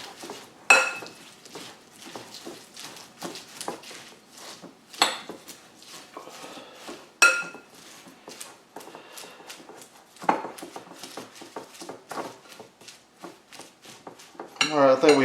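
Big spoonfuls of mayonnaise and mustard scooped into a bowl for a venison neck barbecue dish, with repeated close spoon-on-dish clinks and taps at an uneven rhythm.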